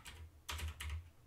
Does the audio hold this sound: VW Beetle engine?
no